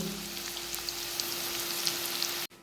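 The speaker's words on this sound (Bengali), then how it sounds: "পেঁয়াজটা ভাজা হচ্ছে" Onions sizzle and crackle in hot oil with a steady hiss and a faint background hum, cutting off abruptly at the end.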